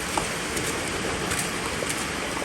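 Steady, dense rain falls with a constant broadband hiss and scattered droplet patter. It is fairly loud and carries on throughout with no voices.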